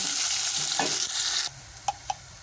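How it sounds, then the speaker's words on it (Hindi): Chopped onions hitting hot oil and frying with a loud, dense sizzle that drops abruptly to a quieter hiss, followed by two short stirring scrapes, heard up close without talking. "तो ये मैं इसमें डाल रही हूँ और इसको हमने गोल्डन फ्राई करना है, गोल्डन ब्राउन।"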